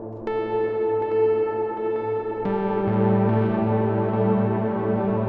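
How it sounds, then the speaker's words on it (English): A sustained tone with a heavily distorted, echoing delay, repeats stacking into a thick, gritty wash that swells partway through. "Now the delay is distorted."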